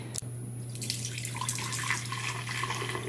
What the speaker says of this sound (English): I'm going to strain my kombucha so that I just have a half cup of liquid and the sediment